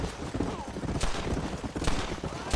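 A horse clip-clops along at a steady trot in Red Dead Redemption, its hoofbeats running under continuous speech from a player and accompanied by occasional sharper game sounds.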